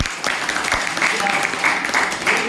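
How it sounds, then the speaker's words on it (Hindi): Loud applause at an open business meeting in Gurgaon, Haryana, a dense wash of clapping with a voice continuing over it throughout the short stretch. "एक बार सर के लिए जबरदस्त तालियां।"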